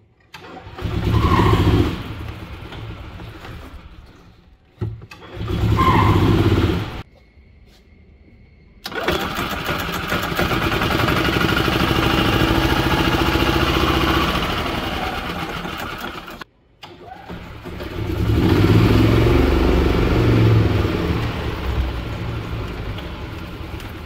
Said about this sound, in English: Now that we've replaced the belt, it sounds better and drives better.